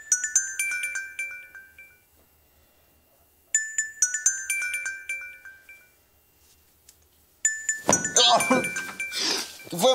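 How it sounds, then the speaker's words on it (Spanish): A mobile phone ringtone plays a bright, tinkling melodic phrase three times with pauses between, loud and near, the last repetition overlapped by people talking. "está sonando tu celular"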